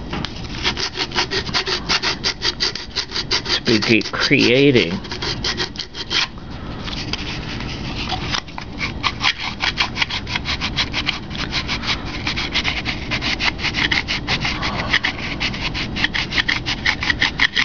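Balsa wood glider wing being sanded by hand, a steady back-and-forth rubbing rasp repeating in quick even strokes, close and loud throughout, with a brief pause midway and a few faint spoken words.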